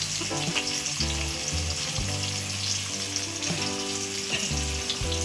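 Ackee sizzles steadily in a hot pan with black pepper, a dense, close frying hiss with a faint low hum of cooking underneath, continuous and loud for the whole stretch with no talking.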